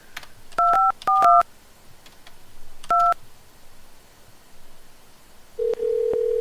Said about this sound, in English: I'm going to dial another number.